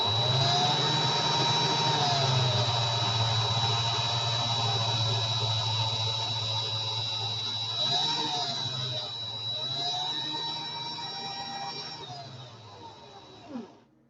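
A power drill whirs steadily while twisting coil wire held in needle-nose pliers, a continuous motor whine with high tones that briefly dips and rises in speed before ending with a small clunk.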